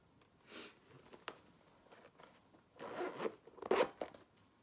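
A zipper on an ivory croc-embossed crossbody bag is pulled in a few short, close rasping strokes, faint at first and louder toward the end, with small handling rustles between.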